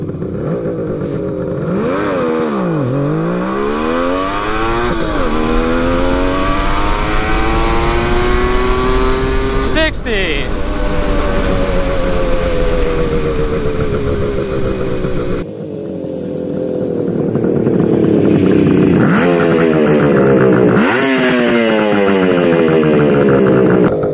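A Suzuki GT550 two-stroke triple motorcycle accelerates hard through several gears, its loud, buzzing engine climbing in pitch, dropping at each shift and rising again, close and continuous with no talking.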